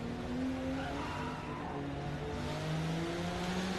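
Nissan 370Z race car drifting in a racing video game, with engine drone and tire squeal sustained across the moment, steady and fairly loud with no talk.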